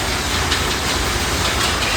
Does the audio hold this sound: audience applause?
no